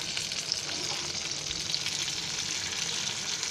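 Stuffed capsicums frying in oil, turned over one by one in the pan, a continuous close sizzle with faint scraping of the utensil.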